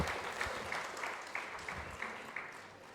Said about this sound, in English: let us all start by giving them a big round of applause